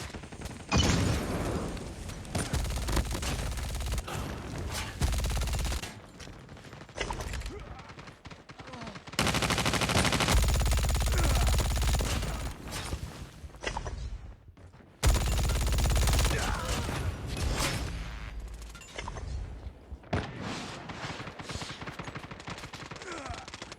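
MG 42 machine gun fire from a World War II campaign video game, with long sustained bursts of rapid automatic shots that break off between volleys, loud and close over the game's background sounds.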